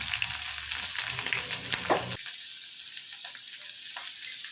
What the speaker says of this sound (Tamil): ஒரு கடாய் வச்சுட்டு அதில் கொஞ்சம் ஆயில் ஊற்றிட்டு ஆயில் ஹீட் ஆனதுக்கப்புறமா வெங்காயம் போட்டு நல்லா வதக்குங்க